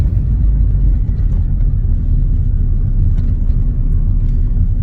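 A car engine, just brought out of storage, runs steadily and loudly up close, a deep continuous rumble with slight wavering and no voices.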